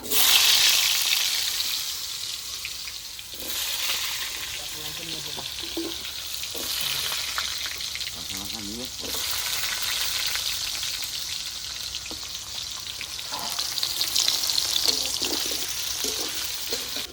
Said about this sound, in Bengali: শুধু গাজরগুলো ভেজে নেবো।